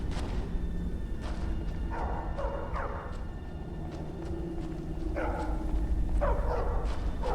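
A dog in Skyrim VR barks several times in short clusters over a low rumbling background, the barks fairly distant and moderate in loudness.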